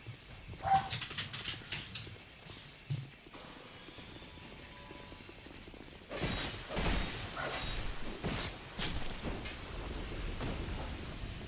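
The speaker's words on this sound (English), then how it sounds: "you hear the dogs? They're mad at something." Dogs barking inside Dark Souls, a mix of sharp yaps and snarls over busy game ambience, with a rushing, crowded stretch of noise in the second half.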